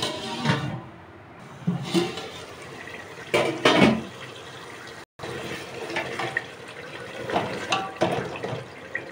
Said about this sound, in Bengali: এবার পানি দিয়ে মাংসটাকে সেদ্ধ করতে দেবো।